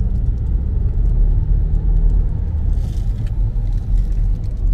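A car drives along a road through San Fernando in Maspalomas, Gran Canaria, heard from inside as a loud, steady low engine and tyre rumble, with a faint higher swish partway through and no talking.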